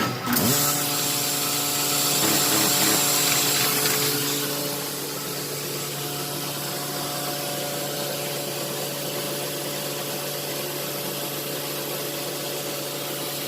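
A paper folding machine runs a trifold job, its steady mechanical whir and hum with faint tonal whine starting with a brief clatter, then settling into a continuous even drone throughout, close and fairly loud with no talk.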